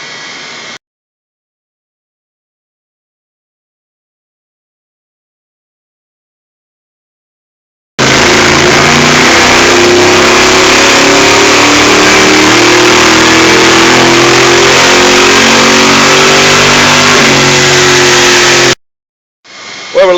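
A 1968 Chevrolet Nova engine revs hard on a dyno during power tuning, a loud sustained roar climbing steadily in pitch for about ten seconds before cutting off abruptly, with silence beforehand.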